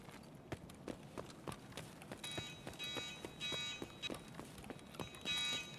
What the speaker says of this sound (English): That alarm is fucking annoying.